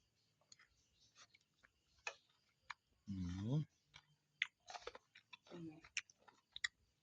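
Close, crunchy chewing and biting of a som tam papaya salad with shrimp, soft irregular clicks and mouth noises scattered through a quiet room, with a brief louder vocal sound near the middle.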